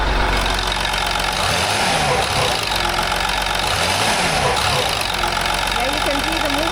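A Land Rover engine runs rough, loud and close, its throttle rising and falling with an uneven knocking, metallic edge under the steady roar.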